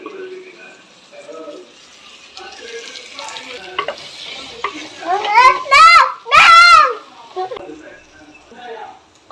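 Dried fish curry is stirred and fried in a pan, with scraping stirs and a soft sizzle, and a louder burst of stirring near the end, while a child and an adult talk over it.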